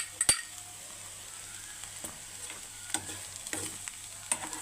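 Cauliflower and chopped onion sautéing in a pan, a faint steady sizzle with occasional scrapes and clinks of a spoon against the pan, no talking.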